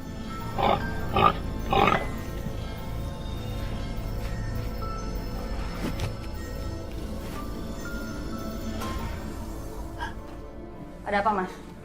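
A pig grunting in short snorting bursts, a quick cluster of three near the start and another near the end, moderately close over a low background hum.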